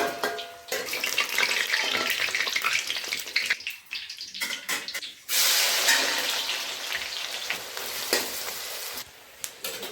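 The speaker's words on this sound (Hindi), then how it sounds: "तो दोस्तों ये प्याज फ्राई कर रही है लगाने के लिए।" Onions frying in a pan for egg biryani give a loud, steady crackling sizzle with bursts of stirring, briefly dropping away midway before surging back strong.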